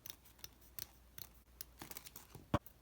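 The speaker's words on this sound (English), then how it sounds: "And now I'm going to cut the second strip" Scissors snip through a strip of beads strung on thread for an upcycled glam vase votive, giving a series of quiet, crisp clicks and short snips, ending in one louder, sharper cut near the close.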